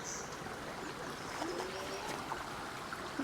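A creek flows steadily in a continuous broadband wash of water with faint trickling and gurgling, heard alone at moderate distance.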